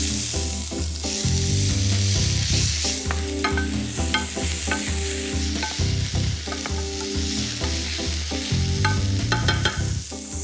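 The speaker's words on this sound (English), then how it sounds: "Hit a hot pan with some olive oil." Food sautés in a hot pan with olive oil, a steady crackling sizzle running throughout, overlaid with rhythmic scraping and stirring, close and loud, with no voices.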